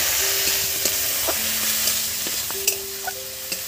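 Water is splashed into spices frying in a pan for a soybean and mutton fat dish, producing a steady sizzle with scattered crackles, pops and scraping stirs; no one talks.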